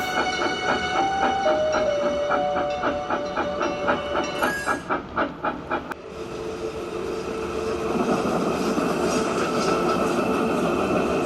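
A steam locomotive chuffs rhythmically along the track with a whistle tone over the regular beats, then gives way to a loud continuous hiss of steam.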